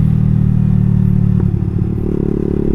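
Yamasaki Ninja RR 150 FI and Yamasaki ZX 636 motorcycles are heard at a drag race. One engine drones loud and close, then shifts to a changed tone after a brief clatter.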